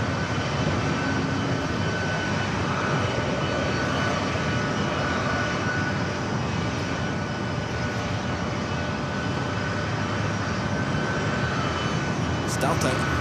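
A Delta airliner takes off at San Diego airport, its jet engines giving a continuous, loud roar that stays steady for the whole stretch.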